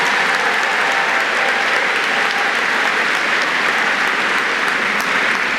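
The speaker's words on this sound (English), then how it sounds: "So let's give them a round of applause, parents." Loud, sustained applause from a large crowd at a university graduation ceremony, a thick wash of clapping that stays steady throughout.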